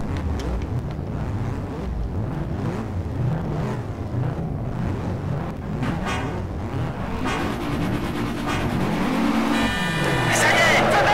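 Race car engines roar during a night race in the Shift 2 Unleashed video game, revving and shifting under wind-like rush, with a loud high whine building toward the end.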